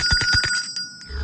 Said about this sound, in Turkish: işte o zil sesi